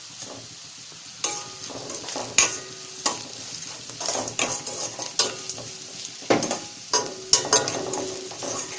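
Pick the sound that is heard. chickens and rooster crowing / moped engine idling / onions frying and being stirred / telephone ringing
onions frying and being stirred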